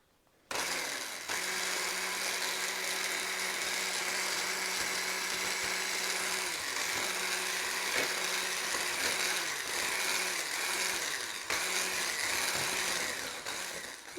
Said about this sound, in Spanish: añadirle a las yemas el azúcar y el aceite. Y lo vamos a mezclar.